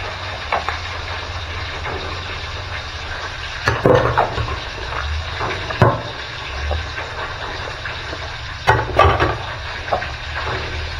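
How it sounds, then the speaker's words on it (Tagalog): Plates washed with running water outdoors while food cooks make a steady hiss of flowing water over a low background rumble, with repeated clatters and clinks of dishes in bursts. "hugas naman tayo ng plato habang"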